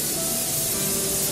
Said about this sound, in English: I'll give my next pan a little spray with nonstick spray.